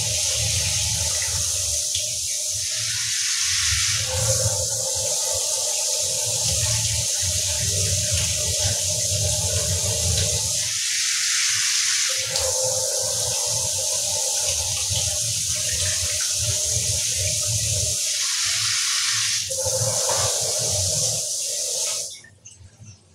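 Tap water gushes steadily in a kitchen as the water is changed on a bowl of soaking lentils. The loud, continuous rushing sound swells slightly and cuts off near the end.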